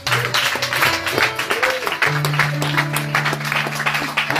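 A church congregation led by a woman pastor claps in steady rhythm. The applause runs throughout, layered under sustained sung or spoken voices.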